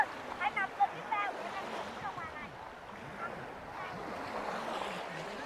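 Sea waves wash in at Binh Son beach in Ninh Thuan, a steady broadband surf with wind noise on the microphone, while a person talks over it throughout.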